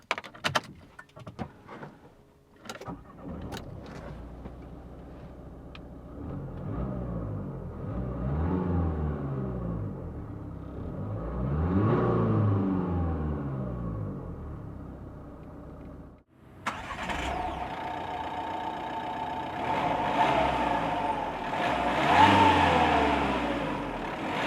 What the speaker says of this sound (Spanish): el ruido de la furgoneta, pues es que es un motor normal y corriente, es diésel